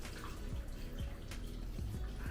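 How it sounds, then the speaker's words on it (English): Water pours steadily into a pot of beef seasoned with cumin and oregano for birria, a continuous close gurgling splash with no talk. "We're going to cover it with water."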